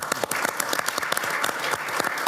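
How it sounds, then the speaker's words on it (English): Audience applause fills a conference hall at a World Economic Forum panel on land restoration, a dense, steady clatter of many hands clapping at full strength throughout, with no talk over it. "Round of applause."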